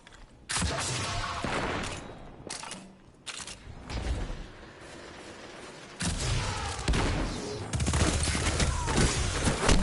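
Loud video game gunfire rattles in rapid bursts and sustained volleys with heavy booming impacts, cutting out briefly between sprays before resuming.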